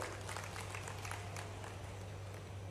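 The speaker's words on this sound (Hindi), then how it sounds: "चलो सीधी के लिए ताली बजा दो" A crowd claps steadily at a political rally in Sidhi, Madhya Pradesh, addressed by the state's chief minister: dense, continuous applause under a constant low hum.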